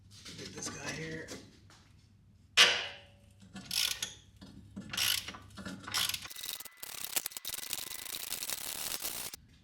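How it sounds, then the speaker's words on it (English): A hand ratchet clicks in quick bursts while a bolt is worked loose from the rear control arm of a 2018 Ford Explorer, with sharp metallic clatter between strokes and a voice talking early on. "I might just have to use the ratchet for this."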